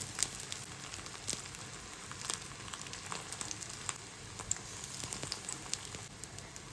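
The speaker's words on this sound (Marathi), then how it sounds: "आपल्याला हा रोल असा पकडून असा तेलामध्ये सोडायचा" Marathwada-style chimkura leaf rolls sizzle steadily in hot oil, a constant crackling fry with sharp little pops and spatters scattered throughout, close and fairly loud.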